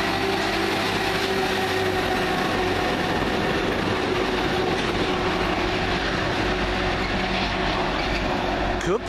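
A Class 323 electric unit, 323-219, rolls into the head shunt at Longbridge station after arriving from Lichfield City, making a loud, steady rumble of wheels and motors with rail clatter and a faint squeal at the end.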